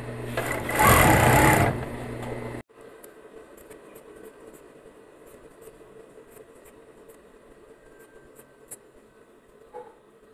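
An overlock sewing machine runs loud and steady on legging fabric for about two seconds, then cuts off, leaving a quiet room with faint ticks and clicks.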